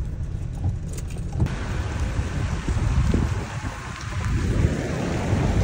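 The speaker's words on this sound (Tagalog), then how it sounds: "Ug ulan na." Early-morning rain falls on a street in Pagadian City, a steady broadband wash with low traffic rumble that swells slightly toward the end, and no talking.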